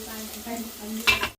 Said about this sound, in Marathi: त्याच्यामध्ये तेल गरम होता त्याच्यामध्ये आपण तो कापलेलो कांदो घालून घेतलेलो